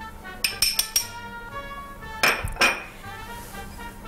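A spoon clinks against a bowl holding flour and walnuts as baking powder goes in for a Greek walnut cake, giving a few quick metallic taps followed by another short pair, quiet and close.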